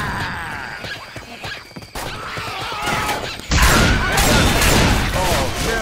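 Gunfire crackles in Left 4 Dead 2 during the Swamp Fever campaign, a sparse pop early on, then a loud dense burst of rapid shots after a sudden jump in volume, with some voices in the mix.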